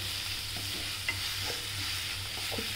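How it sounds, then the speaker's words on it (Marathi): Beetroot bhaji with fresh coriander is stirred in a hot pan, a steady close sizzle running throughout with a few soft scraping strokes of the spoon. "कोथिंबीर टाकली, आपण छान हलवून घेऊया।"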